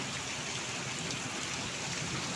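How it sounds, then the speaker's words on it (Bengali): A hard downpour drums on a deep pond outside a house, forming an unbroken, even roar of rain with no speech. "কি জোরে জোরে জোরে জোরে বৃষ্টি হচ্ছে দেখতে পাচ্ছেন।"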